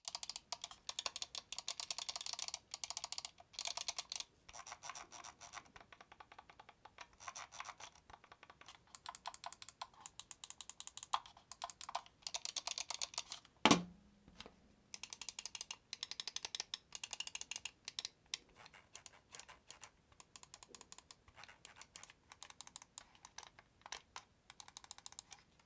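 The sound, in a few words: Razer Viper V3 Pro and Logitech Superlight mouse button clicks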